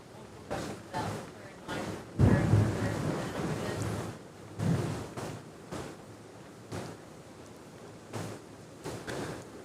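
Heavy rain pouring down during a severe storm in West Knoxville, a steady broadband wash with gusty surges, heard beneath ongoing talk.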